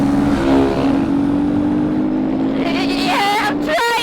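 A supermoto motorcycle engine lugging slowly in sixth gear gives a loud, steady, low droning hum close by. It is briefly broken near the end by a short voice and rougher noises.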